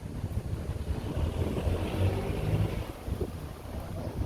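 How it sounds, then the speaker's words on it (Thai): Wind blows outdoors at a likay stage set up in the middle of a road, buffeting the microphone with a continuous low rumble and gusty whoosh and no voices. "ลมลมก็พัดดีนะ ก็ทำให้บรรยากาศมันไม่ร้อนมากนะครับ"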